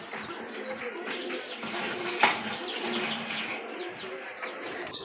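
Soft coos from Rajgolla pigeons murmur in a busy background, with faint chatter and scattered bird sounds around them.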